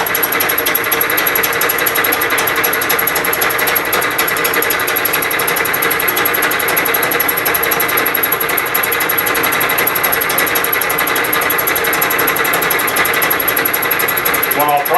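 A Bridgeport milling machine fly cutting metal, running as a loud, steady, continuous mechanical drone with a dense rattling chatter throughout.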